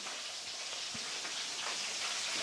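Heavy rain pours down in a steady, even hiss that lasts throughout at moderate loudness, with no talking.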